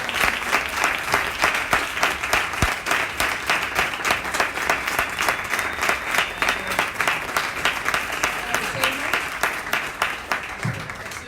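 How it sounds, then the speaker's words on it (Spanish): Audience at an architecture lecture breaking into applause, many hands clapping in a steady, fairly rhythmic unison pattern that continues evenly at moderate loudness for several seconds. "Pues demos un fuertísimo aplauso"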